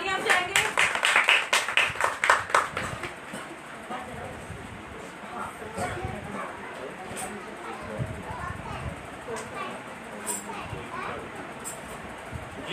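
A congregation at a Monday prayer meeting in Karachi claps hard in a quick, loud burst at first, then settles into softer, scattered clapping with voices talking over a noisy room.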